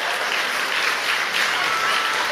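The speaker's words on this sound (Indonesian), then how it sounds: "Jangan malu-malu, kasih tepuk tangan aja buat Tuhan yuk." Dense, steady applause from a church congregation during a sermon, loud and close, with continuous clapping for the whole stretch.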